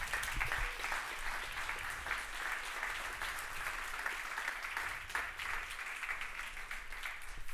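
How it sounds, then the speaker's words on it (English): Audience applause for finalists at an awards ceremony, a sustained wash of clapping from a large crowd in a hall, steady and even throughout with no voices on top. "A round of applause for these finalists, please."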